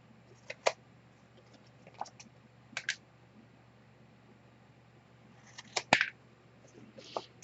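Scissors trimming paper pieces for a Christmas star mini album, a few quiet, sparse snips and crisp cuts scattered across a hushed indoor room, some in quick pairs.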